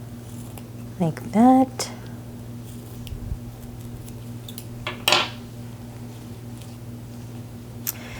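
Scissors make a few short, crisp snips while ribbon ends are trimmed for a graduation lei, with clinks and rustles around them and someone speaking briefly.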